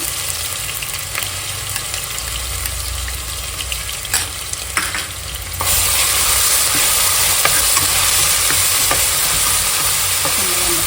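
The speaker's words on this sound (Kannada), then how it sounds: "ಒಂದು 10 ಸೆಕೆಂಡ್ ಫ್ರೈ ಮಾಡಬೇಕು, ಹಸಿ ವಾಸನೆ ಹೋಗ್ಬೇಕದು" Ginger garlic paste frying in a pan of onions for basmati biryani: a loud, close, continuous sizzle with occasional spoon knocks, and the frying grows louder and hissier partway through.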